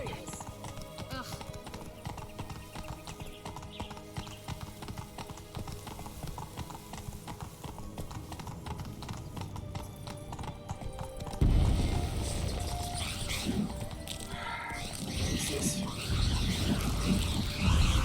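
Horses gallop in The Witcher 3, their hooves pounding in a fast, steady rhythm close by; partway through, a louder rush of wind and movement joins them, and voices speak over the hoofbeats.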